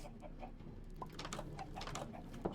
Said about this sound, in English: Got those chickens working hard.